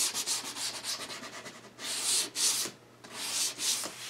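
Sandpaper rubs a small bevel onto the edge of a wooden toy box board in short, rhythmic back-and-forth strokes, close and fairly soft, with a few stronger strokes toward the end.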